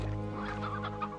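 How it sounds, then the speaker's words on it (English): Chickens in Slime Rancher 2, heard behind glass in a terrarium alongside slimes, give a short burst of soft clucking over a steady game background hum, with no one talking. "it's like there's slimes and chickens on the other side of this glass."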